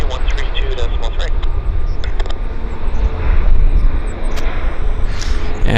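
A Hong Kong Airlines airliner at Vancouver Airport, its jet engines roaring and whining steadily at moderate distance, with wind and traffic noise around it.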